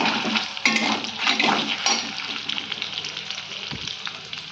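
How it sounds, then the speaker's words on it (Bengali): Paneer fries in a pan with a close, steady sizzle, broken by a few sharp crackles and light stirring clatter near the start. "এই দেখো পনিরটাকে ভেজে নিচ্ছি"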